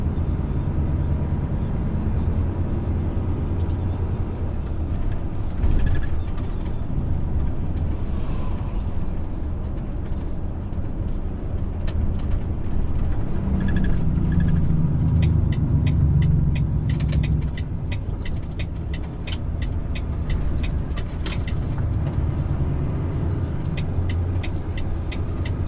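A truck engine accelerates gently and holds a low, steady hum heard from inside the cab, with faint road rumble and light rattles over the drone.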